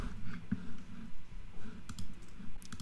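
Computer mouse clicks while a machine learning tutorial runs in IBM Watson AutoAI, with a few short, fairly quiet clicks spread through a low room hum.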